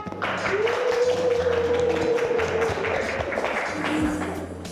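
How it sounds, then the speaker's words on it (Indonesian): Classroom of students applauding as a group walks to the front, a steady patter of clapping with a faint voice and a low hum underneath. "beri tepuk tangan"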